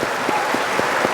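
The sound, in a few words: audience applauding a couple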